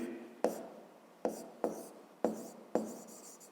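Pen or pencil strokes drawing a polygon on paper during a fifth-grade maths exercise: five sharp, close strokes, each starting with a tap and fading into a scratchy trail, with no one talking.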